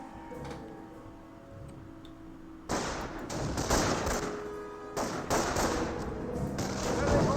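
Gunfire from Panzer Grenadier infantry in the Company of Heroes strategy game crackles in dense bursts, starting abruptly and then returning after a short lull, with a commentator talking under the shots.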